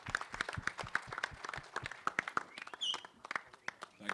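A crowd at the Action Jackson trailer launch for actor Ajay Devgan gives a round of applause, heard as faint, scattered, uneven claps in a large room.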